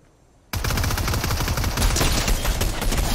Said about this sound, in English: Dude, that shotgun's insane!